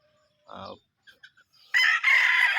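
A gamecock at a game farm crows loudly and close in one long, strong call near the end, preceded by a few short clucks and soft chicken sounds, with no talking.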